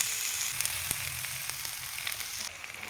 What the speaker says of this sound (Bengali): ওই কড়াইতে এবার পেঁয়াজ দিয়ে দিব